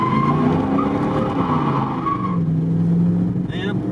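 A 1985 Chevrolet Camaro Z28 with a rebuilt 700R4 automatic transmission pulls away from a stop, its engine rising in a loud, continuous growl with shifting tones, heard close from inside the car.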